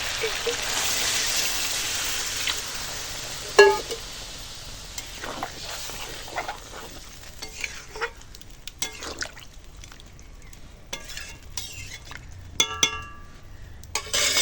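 Water goes into a pot of mutton curry frying over a wood fire, bringing a broad hissing sizzle at first, then clinks of utensils and sparse crackling.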